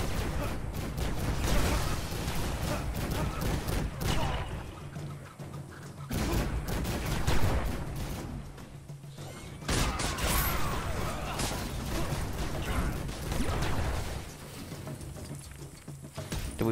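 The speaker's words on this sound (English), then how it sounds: "Did we blow that one up?" Explosions and blaster-style gunfire in Lego Marvel Super Heroes, dense bursts of popping and rattling blasts that keep coming across the whole stretch, loud and continuous with brief lulls between volleys.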